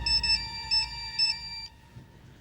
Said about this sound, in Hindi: बिरजू की वाइफ का फोन है।